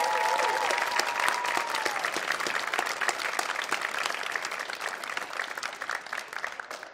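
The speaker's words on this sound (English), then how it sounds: "Can I get a round of applause for them?" Audience applause at a school winter concert at an arts centre, for a group of grade 8 musicians: many hands clapping steadily, loud at first and gradually thinning toward the end.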